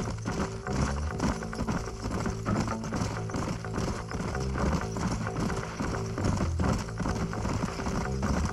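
Horse hooves clip-clop steadily in Red Dead Redemption, a rapid, continuous rhythm of close hoofbeats throughout, with faint mechanical jingling of tack underneath.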